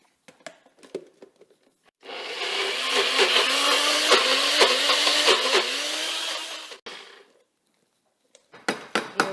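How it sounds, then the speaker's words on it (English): A protein breakfast bowl with blueberries gets mixed in one loud, steady burst of whirring and clattering lasting about five seconds, with quiet handling noises before and after. "right now, we're going to just mix this protein bowl up and enjoy."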